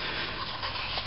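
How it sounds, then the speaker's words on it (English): Sandpaper rubs back and forth along the edge of a leather knife sheath, a short, close, steady scratchy scraping. "kind of just sand off what you want"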